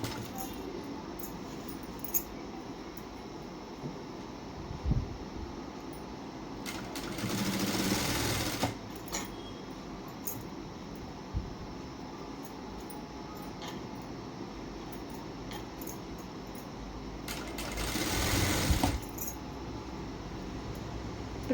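A sewing machine stitching a plain blouse with lock stitch runs in two short bursts of steady whirring, separated by a quiet stretch of faint handling noises and scattered light clicks.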